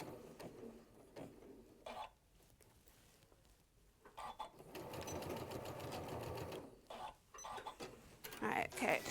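A sewing machine stitches a seam on a holiday wash bag in bursts of rapid mechanical whirring, stopping and starting between runs. Voices talk quietly in the pauses.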